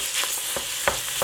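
Ground meat for Bolognese sauce added to a hot pan in batches gives a steady bright sizzle, close and even, with a few soft clicks of stirring over the short span.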